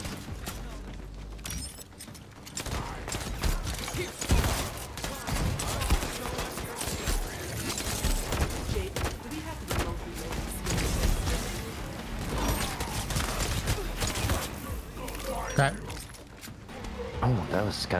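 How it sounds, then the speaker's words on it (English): Guns fire in a free-to-play shooter video game, with dense, repeated shots and mechanical clatter running throughout, under a voice talking. "It is so satisfying shooting the guns."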